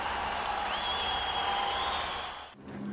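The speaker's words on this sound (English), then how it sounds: "the crowd in Londonderry greeted the announcement from Westminster with loud and long cheers" Crowd in Londonderry cheering loudly and at length, a dense sustained roar with whistles carried over it, running steadily for a few seconds before cutting off abruptly, then low murmuring.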